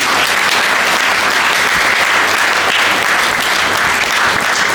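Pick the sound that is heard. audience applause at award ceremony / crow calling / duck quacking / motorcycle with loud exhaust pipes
audience applause at award ceremony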